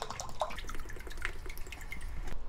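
Strong infusion liquor poured into a cup for a chili pickle recipe, a close, soft stream of liquid with trickling and dripping that runs steadily for a couple of seconds.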